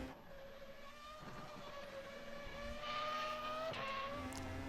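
Formula Pro open-wheel race car engine howling steadily through its gears on the Le Mans circuit in a racing video game, a continuous high revving note rising and shifting for the whole stretch with no talk over it.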